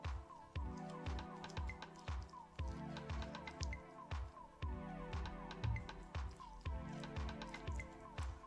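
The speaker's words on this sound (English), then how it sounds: "So every two cuts, just give it a wash with water." A kitchen knife rinsed with water between slices while sushi and gimbap are cut, making soft, rhythmic wet squishes and drips that repeat about once a second, close by and quiet.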